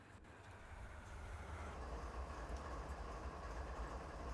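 A Canadian National train rolls along a siding in the Train Simulator 2020 video game, a low, steady rumble of wheels and engine that builds slightly and stays faint and distant.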